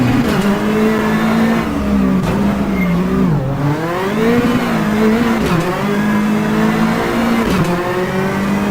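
A rally car's engine drones steadily in Richard Burns Rally, the pitch rising and dipping with a few quick gear changes and a sharp lift-off midway, loud and close throughout.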